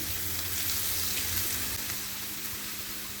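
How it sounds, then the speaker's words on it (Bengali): Onion paste fries in oil in a pan, a soft, steady hiss and bubbling sizzle heard up close with no talking. "পেঁয়াজ বাটাটাও একটু ভেজে নেব, যেন কাঁচা গন্ধটা না থাকে।"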